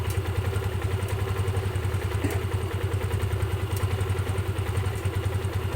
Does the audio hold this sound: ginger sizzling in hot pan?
no